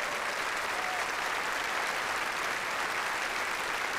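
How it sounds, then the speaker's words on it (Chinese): Steady applause from a church congregation at a Cantonese-language service, dense and sustained throughout without a break. "呢啲掌声系俾你哋嘅"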